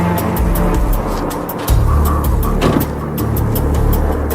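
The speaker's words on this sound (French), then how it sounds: "Vers 3 h du matin, un véhicule s'arrête devant son habitation." A car pulls up and stops in front of a house at about three in the morning, its engine a steady close rumble that shifts partway through under a constant wash of noise.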